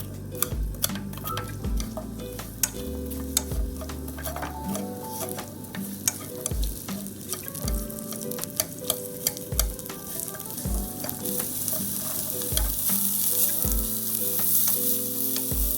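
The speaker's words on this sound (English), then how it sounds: "Fry them." Onions fry in hot oil in a frying pan for Japanese gyudon beef bowl, a steady close sizzle punctuated by regular knocks and scrapes of stirring against the pan.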